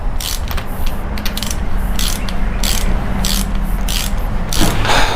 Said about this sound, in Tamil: இப்போ இதை வந்து ராச்செட்டில் வச்சு லாக் பண்ணிடலாம்.